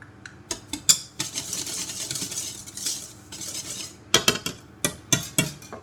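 A utensil stirs chocolate cake batter in a bowl, giving repeated scraping and clinking strokes in uneven bursts, close and fairly loud.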